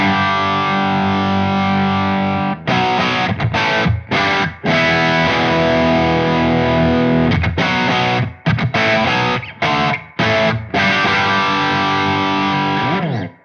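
Electric guitar played through a Wampler Pantheon overdrive into a darkened amp with presence and treble rolled back, thick distorted chords ringing loud and sustained, broken by a few brief stops.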